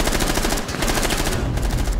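Rapid, continuous automatic gunfire with heavy recoil in Rainbow Six Siege, loud and close, in a dense unbroken burst.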